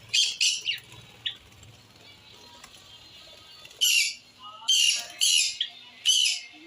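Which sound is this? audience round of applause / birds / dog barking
birds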